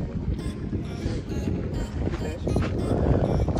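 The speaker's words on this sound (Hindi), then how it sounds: "बहुत तेज़ हवा चल रही है यहाँ पर। आपको आवाज़ सुनाई दे रही होगी हवा की माइक में।" Heavy wind buffets the microphone in a constant low roar, gusting louder toward the end, with no voices audible, on the Chattergala mountain top at 3210 metres.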